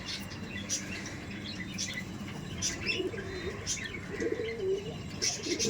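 Male pigeons at a loft coo in low, rolling phrases at moderate distance, with intermittent higher chirps and light rustling of wings over a steady background hum.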